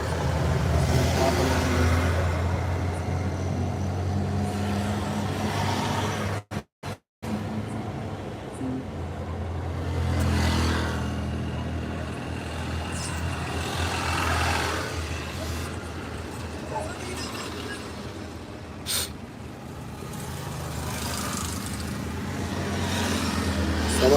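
An auto rickshaw's small motor engine drones continuously while riding at night, with steady road and wind noise and a brief dropout partway through.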